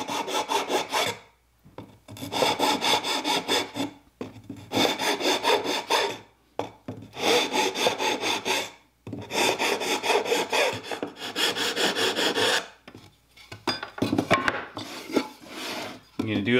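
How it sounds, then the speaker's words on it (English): Hand file rasping a wooden box joint cut on a mini router table jig, rhythmic back-and-forth strokes in close bursts separated by short pauses, with no talk. "you can take a file and just give it a little"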